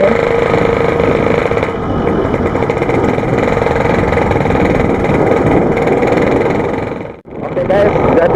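A Yamaha RX King two-stroke motorcycle engine idles steadily and close by, a continuous mid-pitched whir with a brief dip near the end.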